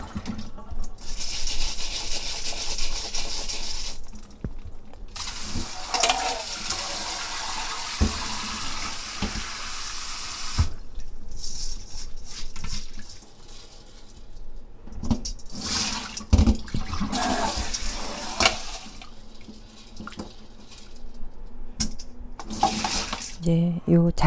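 Mixed grains for five-grain rice, including sticky millet, being rinsed and rubbed by hand in water, with bursts of running tap water and sloshing grains, some quiet gaps between washes, and someone talking at times.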